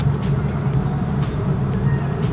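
A 1994 Toyota Corolla sedan engine drones low and steady while overtaking, heard close and continuous, with a rumble that stays level and does not build.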